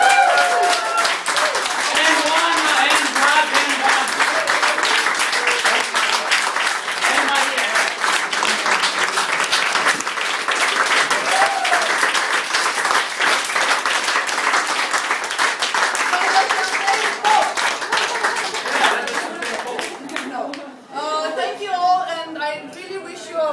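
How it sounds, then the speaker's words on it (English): An audience at an evening event applauds in a dense, steady round of clapping that keeps going for over twenty seconds and fades at the end as voices and chatter take over. "We can also focus on a round of applause now for lecture."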